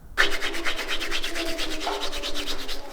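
Carom seeds (ajwain) being crushed and rubbed between the hands for samosa dough, a close, steady gritty rasping with quick back-and-forth strokes throughout, no talking.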